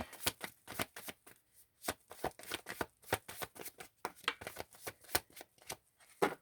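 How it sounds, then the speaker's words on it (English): Playing cards being shuffled and laid out: a quick, uneven run of crisp flicks and soft slaps, close by and steady throughout. "Okay, got a few cards here. Let's get them laid out."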